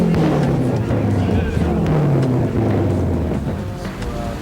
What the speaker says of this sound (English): As you can see, it's just, you know, hordes of traffic at the moment.